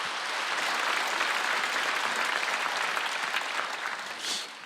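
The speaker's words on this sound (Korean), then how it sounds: "박수 한번 치세요." A church congregation at a Wednesday worship service breaks into warm, sustained applause from many hands. The clapping stays full and even, then tapers off toward the end, with no voices over it.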